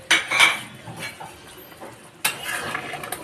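A spoon clatters against a pan holding fish curry with garam masala, two bursts of scraping and knocking separated by a quieter stretch, and a brief voice is faint underneath.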